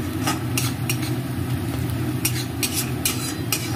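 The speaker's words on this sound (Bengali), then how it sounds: "একটু নাড়িয়ে চাড়িয়ে নিতে হবে, না হলে আমলকিটা পুরো পুড়ে যাবে।" Amla (Indian gooseberry) frying and being stirred in a pan, a continuous close sizzle over a low rumble, with intermittent sharper bursts as the pieces are moved about; no one speaks.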